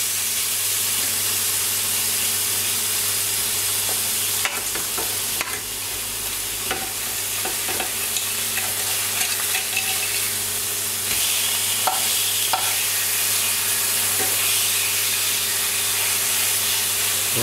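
Hamburger patties sizzle and hiss steadily in a frying pan as they are pressed flat, with occasional scrapes and clicks of a utensil over the constant frying noise and no talking.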